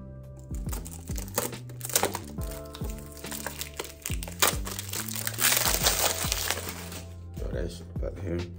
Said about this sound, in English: Still didn't even got to unwrap this thing.